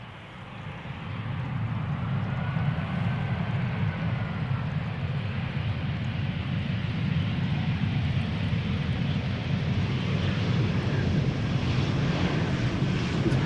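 A jet airliner about eight years old, arriving at Amsterdam Schiphol Airport, fills the clip with a steady, loud broadband engine roar and wind rush that holds without a break.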